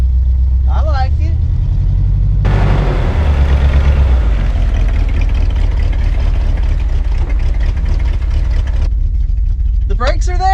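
Old, rare GMC truck left abandoned for 30 years runs at a loud, steady low idle, its deep rumble holding without a break, with brief voices just before and after.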